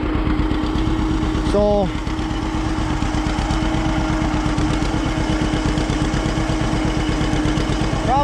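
A John Deere 50 tractor running a New Holland 273 small square baler chugs at a steady, rapid two-cylinder pulse, loud and close, while someone speaks briefly over it.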